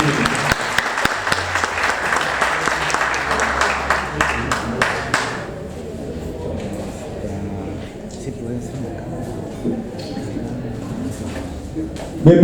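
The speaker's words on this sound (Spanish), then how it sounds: "Recibimos con un fuerte aplauso" Dense applause from a crowd at a breakfast forum with presidential candidates, fading after about five seconds into murmuring voices and room noise, with a voice speaking over it.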